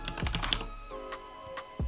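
Quick keystrokes on a computer keyboard as a command is typed, a short burst of close clicks followed by a few scattered taps and a final key press, no talking.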